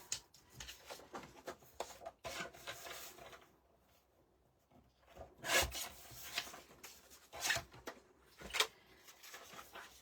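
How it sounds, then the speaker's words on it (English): Black card trimmed down by hand for a craft project, close raspy cutting and rubbing strokes in irregular bursts with short quiet pauses, no talking. "So I'm just going to trim my black card down."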